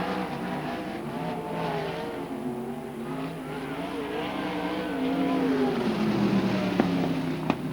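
Sprint cars race at Archerfield Speedway during an Australian title event, a continuous droning roar of several engines on the dirt oval that swells louder toward the end, with a sharp crack near the finish.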